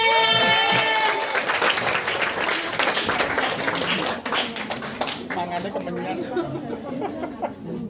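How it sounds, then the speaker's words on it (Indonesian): An audience at a company training event for supervisors claps, with the applause blended into background music and loud crowd chatter, then thinning out as the noise settles. "Kita beri tepuk tangan buat Mbak Widya."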